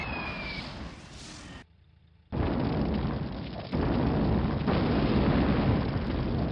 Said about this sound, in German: Wundervolle Explosion.